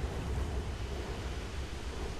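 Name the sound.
ocean being drained in God of War III video game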